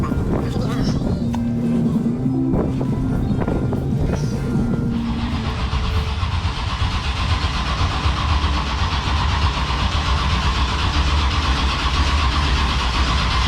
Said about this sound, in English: You burning the starter up or what?